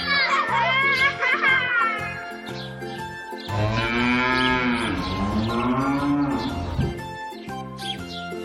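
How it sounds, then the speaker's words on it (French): Domestic cow mooing in a long, loud drawn-out call that swells and falls, with a second sustained moo following a short break, set against a farm backdrop in a children's animal-learning cartoon. "La vache est un mammifère domestique herbivore."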